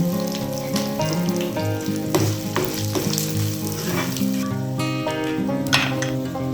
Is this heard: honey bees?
no